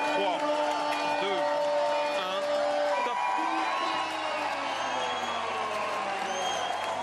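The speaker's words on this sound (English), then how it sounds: "He got a great cheer." Spectators cheer and whoop for a rider rolling off the start ramp of a Tour de France individual time trial at Megève, a steady, loud crowd roar with commentary talk running over it throughout.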